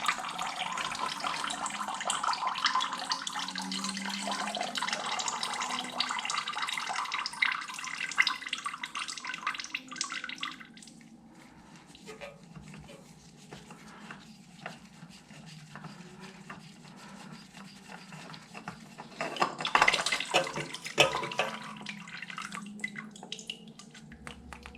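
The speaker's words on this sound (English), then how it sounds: "Looks like we're going to get a few drips here." Engine oil draining from a 2024 Honda Transalp motorcycle, a continuous trickling pour that thins out into scattered drips, close by, with a brief louder splash later on.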